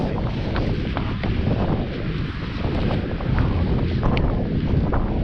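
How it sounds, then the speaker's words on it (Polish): Strong wind blows across a snowy winter mountain meadow, a loud continuous roar and buffeting against the microphone with gusts swelling and easing. "Bo wieje"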